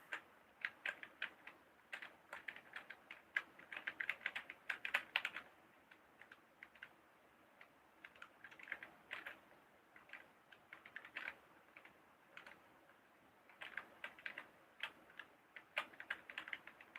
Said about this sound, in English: I hope you like the sound of keyboards, because that's what you'll be hearing most of the time.